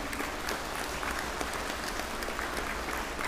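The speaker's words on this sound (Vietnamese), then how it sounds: "Quý vị cho tràng pháo tay." An audience at a Buddhist ceremony claps steadily, a dense, even wash of many hands applauding throughout with no voices over it.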